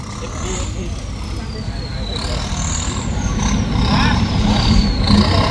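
A tractor engine runs and strains as it pushes, a rough low drone that builds in loudness, with people talking and shouting over it throughout.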